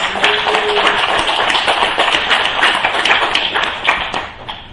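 A church congregation at a Thanksgiving service claps together in a loud, continuous round of applause that holds steady for several seconds.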